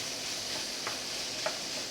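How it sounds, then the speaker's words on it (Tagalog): Sautéed aromatics sizzle and fry steadily in hot oil for chicken sisig, a close, even hiss with a couple of faint stirring scrapes. "Pwede na natin ilagay yung ating mga rekado na ating gisa rin kanina."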